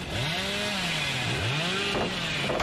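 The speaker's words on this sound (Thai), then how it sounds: "เอาเป็นเลื่อยทะลุไม้มาครับ" A chainsaw in the game Dead by Daylight cuts through a wooden pallet, its engine whining and dipping in pitch in a loud, steady, close roar that runs the whole time with no voices.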